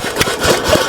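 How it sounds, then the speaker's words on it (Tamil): An electric water pump motor on a farm plot near Pavoorchatram, Tenkasi, runs with a steady, loud mechanical hum and faint rhythmic pulsing, close by and alone. "வாங்க, மோட்டரை ஆஃப் பண்ணி போட்டுருவோம்."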